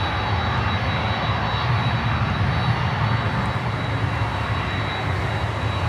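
Boeing 747-8 jet engines roar as a steady, loud, broadband rumble, constant throughout with no talking, from an airport spotting location.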